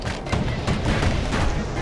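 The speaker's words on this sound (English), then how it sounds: "those turrets are having a bit of a squabble." Automated turrets trading fire in the Bastion video game, heard as dense, continuous booming shots and impacts that stay loud and steady through the short stretch, with no voices.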